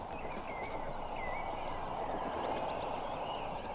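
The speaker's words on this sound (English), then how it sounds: "Would you like to ride the royal horse of the park?" Hooves of the royal horse of the park in the video game Little Misfortune, a quiet, steady clip-clop under a soft ambient bed with faint high tonal calls drifting above.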